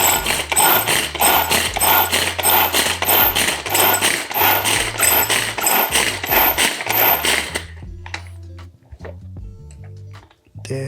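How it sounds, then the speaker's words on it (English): Sugar is whisked into a fine powder in an electric blender or grinder for a salted chocolate caramel tart. A loud, pulsing, grinding whir runs for about seven seconds, then cuts off, leaving faint clinks and rattles. "I will add some sugar and then just whisk it up into a powder form."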